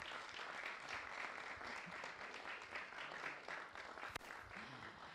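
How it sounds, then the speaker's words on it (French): Audience applause at a live event, a steady wash of many hands clapping heard faintly, as if from a distance, with one sharp knock near the end. "Et on applaudit, s'il vous plaît"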